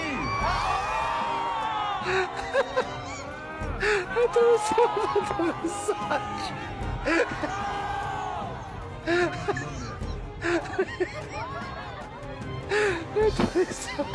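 At an Indonesian political rally, a crowd of Bali residents cheers and shouts continuously in a dense, echoing roar, with sharper whoops rising repeatedly above the mass of voices.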